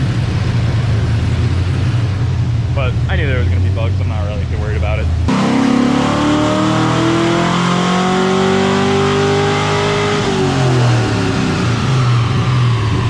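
A Nissan 240 fitted with a Cadillac CTS-V engine accelerates hard, its loud, rising roar taking over after someone talks and continuing close up.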